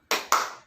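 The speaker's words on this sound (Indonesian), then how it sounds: "ayo kita tepuk semangat" Two sharp claps about a fifth of a second apart, the start of a rhythmic spirit clap in an online microteaching lesson, close and fairly loud with no talk.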